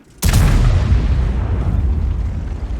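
A single artillery round fired from a self-propelled gun in a tank game: one sudden loud boom followed by a long rumbling decay.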